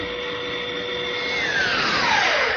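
Belt sander smoothing a bandsaw cut in a wooden butterfly table part, a steady loud whirring drone with the pitch shifting as the wood is pressed, alone without talk.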